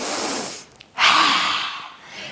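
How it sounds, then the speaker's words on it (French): One sharp, audible inhale during a yoga breathing exercise: a rushing intake of breath close to the mic after a brief pause, trailing off gradually. "On inspire."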